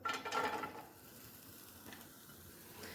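Chopped medium onion fries in oil in a pan for a chicken roll, a soft, quiet sizzle with a brief louder burst of crackling at the start that settles into a faint steady hiss.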